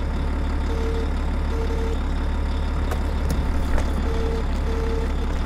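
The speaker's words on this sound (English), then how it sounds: "It's driving into it with the front loader." A front loader drives in the Demolition Company video game, with a steady heavy diesel rumble and short repeated reversing beeps over it, alone without talk.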